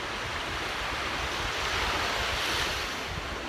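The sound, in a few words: choppy waves on the Gulf of Mexico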